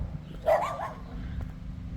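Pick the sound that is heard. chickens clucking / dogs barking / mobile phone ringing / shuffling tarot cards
dogs barking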